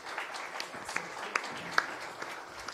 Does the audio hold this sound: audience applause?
yes